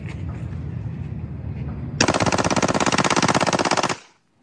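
A pistol fitted with an auto sear fires fully automatic, one long, loud, rapid burst of shots lasting about two seconds after a noisy background, then cuts to silence.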